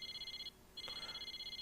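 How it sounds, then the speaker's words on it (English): In Persona 4 Arena, a cell phone rings with a rapid, pulsing electronic beep that breaks off briefly, then resumes. The ringing is clear but not loud. "I realized that the beeping wasn't my alarm. It was my cell phone."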